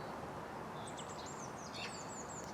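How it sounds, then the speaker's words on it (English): Birds chirp and call faintly outdoors on a garden plot in March, with a few thin, high calls over steady background noise. "I can hear the birds,"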